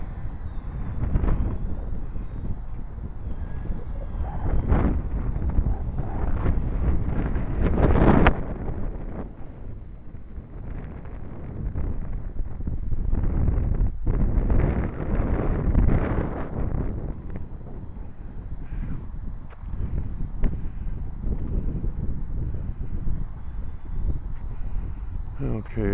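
Strong wind buffets the microphone in heavy rumbling gusts that rise and fall, with a voice speaking now and then beneath the roar.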